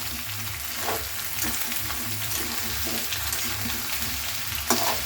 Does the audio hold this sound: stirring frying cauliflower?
yes